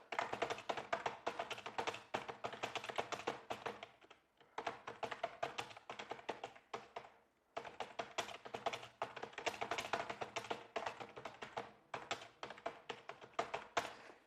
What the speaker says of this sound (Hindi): साथियों आपको इस प्रकार से टाइपिंग करके दिखाना है